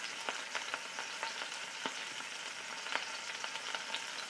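Scallops searing in a hot pan give a soft, steady sizzle dotted with frequent small crackles and pops, close by and with no one talking.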